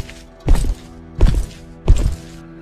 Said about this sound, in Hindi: कमरे के ठीक बाहर भारी कदमों के चलने की आवाजें आ रही थी।